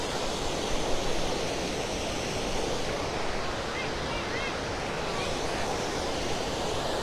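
The fast-flowing Goverjiti river, which people cross where there is no proper bridge, makes a loud, continuous roar that is broad and wind-like, with no break across the whole stretch.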